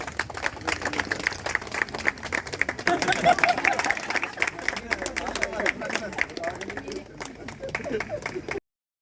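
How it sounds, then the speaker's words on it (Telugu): An audience claps together at the inauguration of a cornea centre at the government general hospital in Machilipatnam: dense, sustained applause for about eight seconds with some crowd murmur, then it stops abruptly. "క్లాప్స్ కొట్టాలి."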